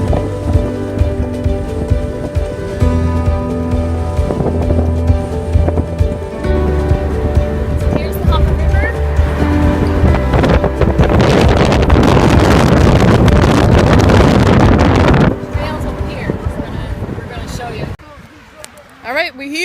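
A car drives past an insectarium near Deer Lake, Newfoundland. A loud, steady rumble of road and wind noise with a low tonal hum fills the interior, with muffled voices faintly underneath, before it thins out near the end.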